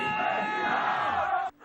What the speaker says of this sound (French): La foule joyeuse, très contente du message, réagit